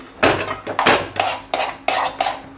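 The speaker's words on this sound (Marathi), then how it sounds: "आता ते आपण चांगलं एकजीव करून घेऊया।" A spoon stirs a mango barfi mixture with ghee in a pan, giving a series of about six distinct scraping strokes in a steady rhythm, loud and close with nothing else present.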